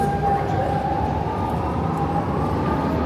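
A metro train rolls past at a steady, continuous rumble with a faint whining tone riding on top, loud and close throughout, heard during a day out in the city.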